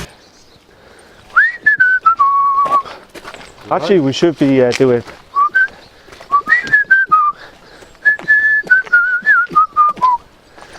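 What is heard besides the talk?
person whistling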